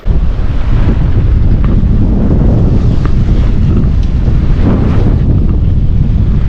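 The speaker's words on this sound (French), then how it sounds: "Bon, et là, ça y est, ça s'est levé, le vent a tourné." Strong wind roars and buffets the microphone nonstop, with the wash of waves and sea around a sailing boat on an ocean crossing beneath it.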